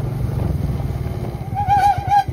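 A motorcycle labors along a muddy, potholed village road, its engine a steady low chugging drone that rises into a brief higher revving whine toward the end.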